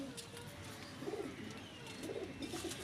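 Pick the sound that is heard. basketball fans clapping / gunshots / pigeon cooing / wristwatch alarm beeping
pigeon cooing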